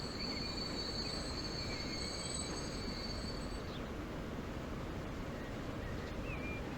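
A fast train in the Transport Fever 2 video game rolling along its rails, a steady rumbling clatter with high wheel squeals drifting over it, faint and continuous with no talk.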